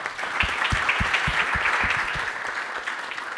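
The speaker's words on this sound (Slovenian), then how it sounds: "Prosim zbrane, da vsakega pozdravite z aplavzom." An audience at a round-table panel on modern technologies applauds a guest, with dense, even clapping and distinct nearby hand claps in a steady rhythm.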